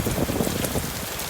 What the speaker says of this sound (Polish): To już się rozpadało, rozpadało się bardzo, bardzo mocno.